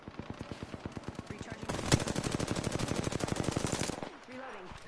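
Rapid automatic gunfire in a video game rattles in a long, steady burst of evenly spaced shots that grows louder midway, then cuts off near the end, leaving quieter game sounds behind.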